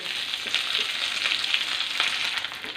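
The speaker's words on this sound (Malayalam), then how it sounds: "മുരിങ്ങയില അത് ചേർത്ത് കൊടുക്കാം ഈ എണ്ണയിൽ കിടന്ന് ചെറുതായിട്ട് ഇതൊന്ന് വേഗട്ടെ" Drumstick leaves fry in hot oil with a steady, close, dense sizzle and crackle that continues without a break and with no voices.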